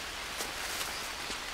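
Steady rain falls in the Green Hell jungle survival game, a soft, even hiss of drops on surfaces with faint brief patters, low in level and with no other sounds over it.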